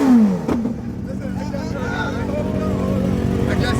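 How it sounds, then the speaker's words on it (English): A motorcycle engine revs and rumbles at a rolling-burnout shoot, a rising whine at the start giving way to a steady loud drone, with voices and crowd babble mixed in. "I just heard the engine"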